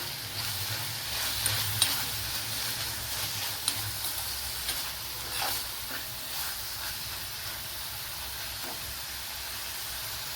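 Brinjal (eggplant) snack frying in a pan with tamarind and chilli powder added, a steady close sizzle and hiss with occasional stirring scrapes throughout, no voices.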